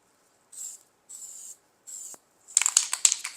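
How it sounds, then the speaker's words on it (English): Short hissing bursts of copper head gasket spray from an aerosol can, three separate sprays close up, followed by the rattling clicks of the can being shaken. "we're going to put some copperhead gasket spray, nice smooth even coat on there."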